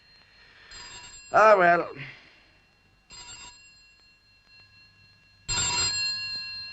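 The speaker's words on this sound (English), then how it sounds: "why does the phone always ring when I'm about to eat?" A telephone rings in bursts, three separate rings spaced a couple of seconds apart, with a voice muttering briefly between the first rings.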